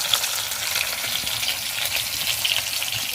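Fish fries in hot oil for a spicy tomato and green chili curry, a steady, close, bright sizzle and crackle that continues without pause and without talk.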